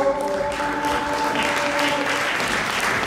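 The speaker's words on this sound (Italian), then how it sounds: "il prossimo premiato è Marco Costantini, che invitiamo qui sul palco con un grande applauso." Audience applause at an underwater photography award ceremony, with steady clapping from a crowd that continues throughout while a held musical tone sounds briefly in the first half.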